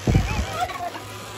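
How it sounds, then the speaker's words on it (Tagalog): A single loud, close turkey gobble, a quick warbling burst that trails off over a second. "Pabo. Pabo."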